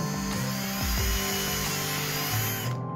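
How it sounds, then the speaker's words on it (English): A power drill whines and bites into a plastic battery case lid, drilling a 5mm hole, its pitch dipping under load a few times before cutting off abruptly at the end. "drill a 5mm hole into the battery case's lid"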